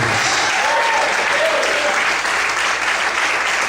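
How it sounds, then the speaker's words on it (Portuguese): A church congregation applauds, dense, steady clapping from many hands filling the room at full volume, with faint voices calling out beneath it. "Desocupe a sua mão, aplauda o Senhor em toda a vida."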